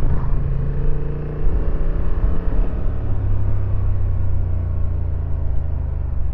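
A Honda Transalp 750 motorcycle engine hums and rumbles steadily close by, its low note dipping briefly and then settling into a smooth, continuous run with no talking.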